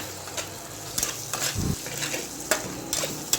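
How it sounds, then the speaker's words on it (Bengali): Spices being stirred and fried with water in a pan while cooking Bengali kumror chhokka (pumpkin curry), heard as a steady sizzle with scraping stirring strokes of a utensil against the pan. "জল দিয়ে আমরা মশলাগুলো খুব ভালোভাবে মিশিয়ে দিচ্ছি"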